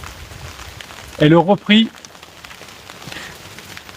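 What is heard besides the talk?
heavy rain falling on a phone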